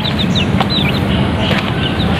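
Native free-range chickens perched on top of their coop cluck and squawk steadily, with several birds calling close by over a constant farmyard background.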